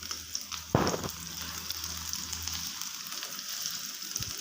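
Chapli kababs made from Qurbani meat fry in oil over a low-medium flame, giving a close, steady sizzle with a brief clatter near the start and a light knock near the end.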